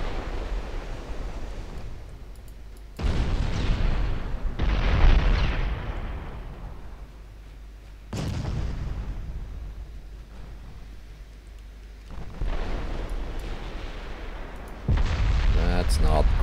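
Heavy naval explosions in an Ultimate Admiral warship battle: several deep booming blasts with long rumbling tails, spaced a few seconds apart, loud and close, the last ones stacked in quick succession.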